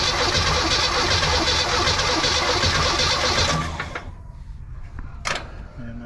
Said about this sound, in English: Let's just see if it'll spin over with the starter first.